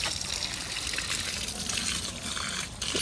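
Water is poured and splashes over a cow being washed at a home Mattu Pongal celebration. The pour is continuous and close, with a trickling, splashing wash throughout.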